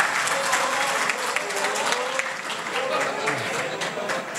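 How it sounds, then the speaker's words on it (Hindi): Dense applause from a mushaira poetry audience fills the whole stretch, steady and close, with faint voices mixed in among the clapping. "तालियां।"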